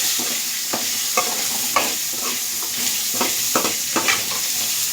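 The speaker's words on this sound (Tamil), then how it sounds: "வெங்காயம், தக்காளி, பூண்டு இதையும் நல்லா வதக்கிடணும்" Onion, tomato and garlic sautéing in hot oil for an eggplant gravy, a continuous sizzle broken by several scraping stirs of the spoon against the pan, close and fairly loud.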